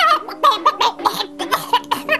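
A cartoon character's voice imitates a clucking chicken, with quick choppy bursts of squawks and giggly cackles that sound loud and close and fill the whole moment.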